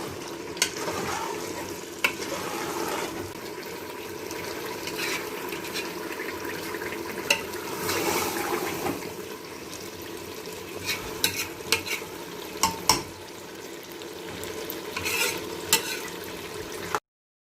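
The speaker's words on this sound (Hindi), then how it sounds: "बस सिर्फ 2-3 मिनट इसको भूनेंगे हम।" Mixed vegetables with mutton frying in oil, stirred in the pot: a continuous sizzle broken by scraping and clinking of the spoon against the pan at irregular intervals, moderately quiet with no talk.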